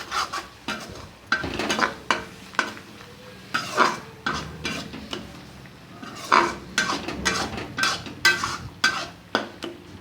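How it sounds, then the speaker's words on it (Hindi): Kundru (ivy gourd) gravy with cream being stirred and roasted in a pan over a low flame: repeated scraping and clinking of a spoon against the pot in an uneven rhythm, close and moderately loud, with no talking. "इसे डालकर एकदम धीमी आंच पर हम इसे अच्छी तरह से भून लेते हैं।"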